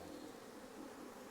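Honey bees hum around an open hive during a split, a brief, steady, close buzz with no talking over it.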